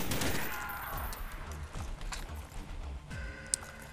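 A Heckler and Koch HK21 machine gun fires in Call of Duty Zombies, a rapid rattling burst up front that breaks into scattered shots and mechanical clatter, fairly close.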